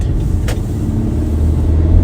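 A car engine and road rumble drone steadily and close, swelling slightly toward the end, with no talking.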